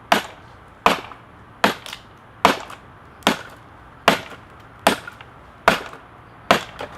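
A Cold Steel SRK Carbon V knife chops firewood in about nine sharp, close impacts spaced under a second apart, each a crisp woody crack that fades quickly into a quiet background.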